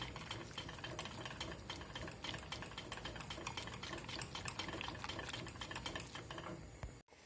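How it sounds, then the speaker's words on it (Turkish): A whisk or spoon stirs cake cream in a pot, a quiet, steady run of rapid scraping and clicking strokes that continues without pause. "Sürekli karıştırıyoruz pasta kremamızı."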